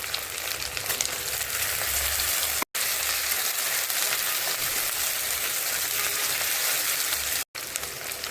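Tomatoes fry in a pan with onion, ginger and garlic paste, giving a steady, close, loud sizzle that runs throughout with two brief dropouts and no talk.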